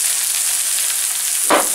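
Eggplant pieces go into a hot wok with about a spoon and a half of oil, giving a steady bright sizzle of frying with a sharper burst of crackle near the end.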